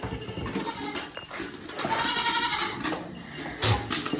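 Several goats on a farm bleat insistently for food, their overlapping nasal cries close by and coming one after another with little pause, with a louder call near the end.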